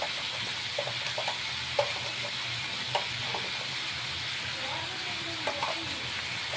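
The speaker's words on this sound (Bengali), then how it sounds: "একটু হালকা লাল করে আমরা ভেজে নেব" Mutton pieces frying in a pan while being cooked to a light reddish brown for Kashmiri rogan josh, a constant loud sizzle with occasional soft clicks of a spoon.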